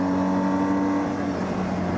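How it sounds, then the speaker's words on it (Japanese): A BMW R 1250 GS Adventure's horizontally opposed twin-cylinder engine runs steadily at speed on an expressway, a loud continuous drone with a firm hum and wind roar, no voices over it. "それにしてもこのエンジンよく回りますね"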